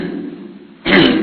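A man imitates a muezzin clearing his throat before the dawn call to prayer: a soft, low rasp followed by a louder, harsher throat-clearing burst, close and alone.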